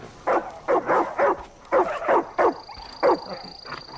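A dog in the Far Cry 5 video game barks in a run of short, loud, evenly spaced yaps mixed with whimpers, close by, with a thin electronic tone entering near the end.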